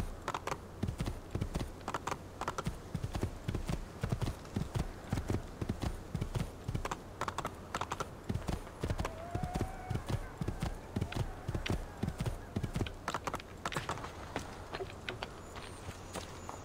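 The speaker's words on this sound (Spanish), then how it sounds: "¡Caballo!" Horse hooves in the video game Assassin's Creed II clip-clop in a steady, quick rhythm of sharp thuds, close and continuous, with a faint voice briefly in the background.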